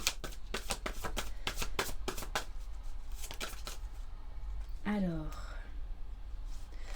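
Oracle cards being shuffled by hand, a rapid series of crisp riffling flicks, followed by a quieter stretch where a voice speaks briefly.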